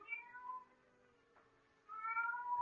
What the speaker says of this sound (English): Suddenly, silence was broken by the faint crying of a cat.